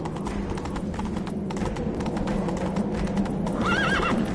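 Hooves clatter in a quick galloping rhythm in the video game The Witcher 3: Wild Hunt, and near the end a horse lets out a loud whinny.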